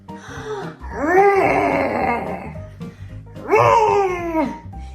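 Voices of an adult and a young child imitate a tiger's roar, two long drawn-out growling moans rising and falling, loud and close, with a brief pause between them.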